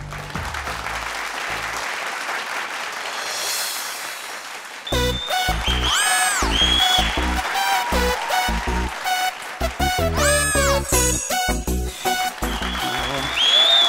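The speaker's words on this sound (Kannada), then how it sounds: "ನೀವ್ ಚಪ್ಪಾಳೆ ಹೊಡಿರಿ." A studio audience at a Kannada comedy show claps in a dense, steady burst for several seconds before loud music with sustained tones takes over.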